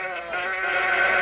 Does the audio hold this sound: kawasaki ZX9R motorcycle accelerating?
no